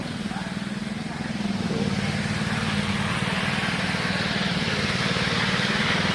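A power trowel machine smoothing concrete runs as a continuous, fairly loud engine drone with a low, steady hum and no pauses.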